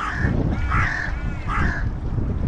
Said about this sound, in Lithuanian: Varnos kranks.